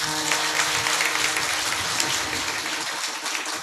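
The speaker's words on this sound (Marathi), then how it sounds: "खरंच महाराजांकरता एकदा जोरदार टाळ्या वाजवा." A religious gathering's audience bursts into loud, dense clapping for a revered Maharaj, an even roar of hands that tapers slightly toward the end, with no speech over it.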